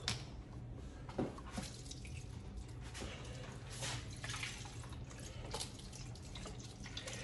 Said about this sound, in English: So we're gonna add the beef broth.